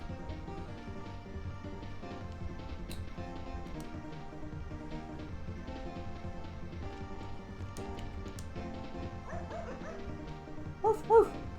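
Short electronic dog barks from the Game Boy Advance game Paws and Claws: Pet Vet, two quick yaps near the end over a steady backing tune.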